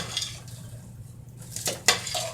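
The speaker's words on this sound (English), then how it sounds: "So you just stir it around until all of it is coated." A utensil stirs popcorn through a sticky candy coating in a pan, with scraping strokes and two sharp clinks of metal against the pan over a low hum.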